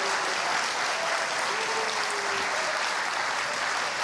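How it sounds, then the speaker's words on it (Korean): Audience applause at a church forum roundtable, a steady, dense wash of clapping from many people with a faint tone underneath and no one speaking. "박수 부탁드립니다."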